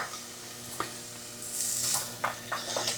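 Carrot and beans being stirred in a soup pot, with a spoon scraping and clinking against the pot and a faint sizzle underneath, near and fairly quiet, in scattered short strokes.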